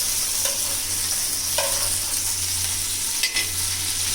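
Fish and taro stolons frying in a pan, with a steady sizzle and a few soft stirring scrapes over a constant low hum.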